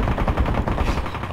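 Gunshots from the battle-royale game Ring of Elysium sound as a quick, steady string of muffled rounds in one short continuous burst.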